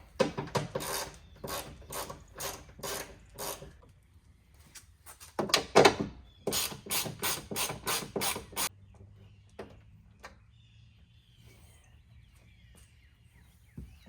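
Ratchet loosening 10 mm bolts on the rear spoiler of a 2011 S197 Mustang, two runs of rapid, close clicking separated by a brief pause, then quieter fiddling noises.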